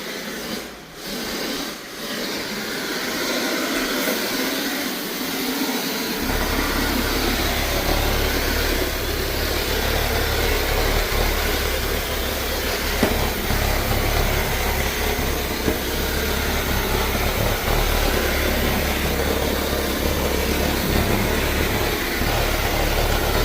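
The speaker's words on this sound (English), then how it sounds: "I have to vacuum that carpet over there, so he's just doing it for me." A vacuum cleaner runs on carpet in a newly built store after construction, a loud steady drone that starts after a few seconds and continues unbroken throughout.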